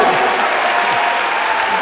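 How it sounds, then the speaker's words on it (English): An awards-show audience claps loudly and continuously for Nancy Cartwright in a full, even burst of applause. "Everybody give Nancy a big round of applause."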